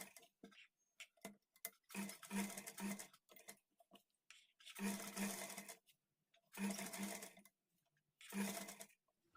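Four evenly spaced runs of a sewing machine stitching a blouse, each about a second long with quiet gaps between, heard close with no talk.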